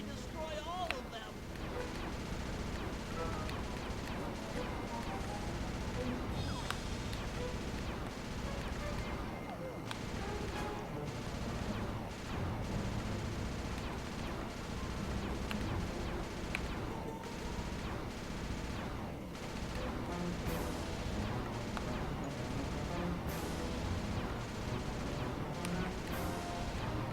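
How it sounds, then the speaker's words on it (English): Hunter-seeker bombs rain down and explode in Sly 2: Band of Thieves, a steady barrage of crashing blasts and gunfire-like bursts running throughout, with a person talking over the noise. "Rajan is raining down a bunch of hunter-seeker bombs on Murray."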